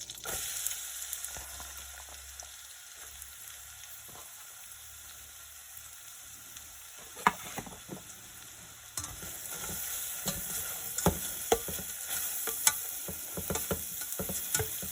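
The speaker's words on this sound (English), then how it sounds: "I need some butter in there. We're gonna go ahead and toss these carrots." Carrots tossed in butter in a pan give a steady, crackling sizzle, with stirring clatter and sharper spatula scrapes growing busier over the second half, no voices.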